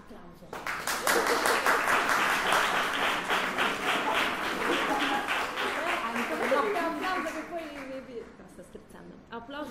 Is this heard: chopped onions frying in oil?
no